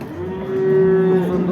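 A single cow gives a loud, close, drawn-out moo at a livestock market in Karakol, rising in strength and holding steady for over a second.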